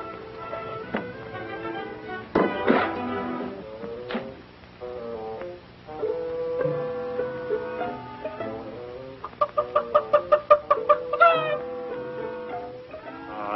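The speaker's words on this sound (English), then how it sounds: "only a chicken." A chicken clucks inside a barn in a short run of rapid, closely spaced clucks near the end, following scattered softer animal calls and faint voices in an older, muffled recording.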